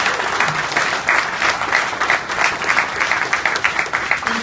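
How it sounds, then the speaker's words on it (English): Sustained applause from a large crowd for a panel at a live Target Open House event, steady and loud throughout without any break. "Can we give them a round of applause?"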